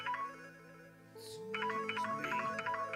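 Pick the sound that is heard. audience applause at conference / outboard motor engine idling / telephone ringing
telephone ringing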